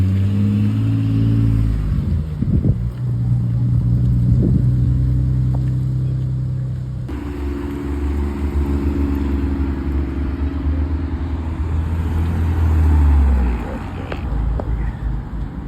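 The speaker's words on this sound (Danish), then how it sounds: "Og så kommer der en Mustang der. GT." Ford Mustang GT engine rumbling past at a garage meet, a loud low drone that swells and fades against the crowd noise and chatter of people at the gathering.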